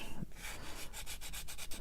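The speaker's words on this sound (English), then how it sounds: "whenever you're sanding, make sure you're moving around" Rhythmic back-and-forth sanding strokes scrape steadily across a small plastic model kit part, close and fairly quiet, with no voices.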